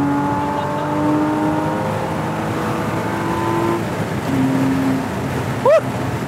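A 2013 Porsche 981 Boxster with a 2.7-liter flat-six and six-speed manual drones from just behind the seats, holding steady revs with a few shifts in pitch, loud and close inside the cabin, with faint voices in the background.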